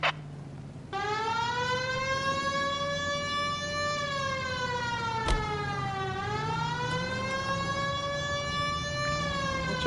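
A police siren wails in a video game, a loud sustained electronic tone gliding slowly down and back up, joined after a brief quiet start by a lower engine-like hum, with no talking.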